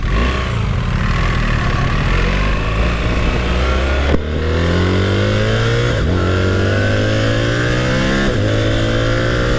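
A BMW R1300 GS motorcycle is ridden hard through desert country, its engine loud and close, revving up through the gears in rising sweeps with brief shift dips.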